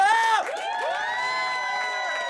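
A film crew on the swamp set of Hatchet II cheers loudly together, a burst of overlapping whoops and shouts that drops off and then carries on in sustained, ringing voices.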